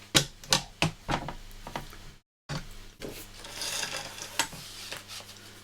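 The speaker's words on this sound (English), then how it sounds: "So I'll just get my trimmer out and trim those out." A paper trimmer slices card in a crafting setup. It gives a series of sharp, close rasping strokes in an uneven rhythm, then a brief gap, then a longer scraping slide.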